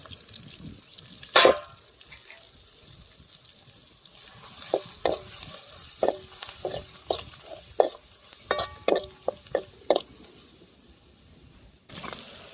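Tomatoes and spices cooking in a pot outdoors in the hills, with quiet sizzling under a run of sharp clinks and scrapes from stirring, close by, and no one talking.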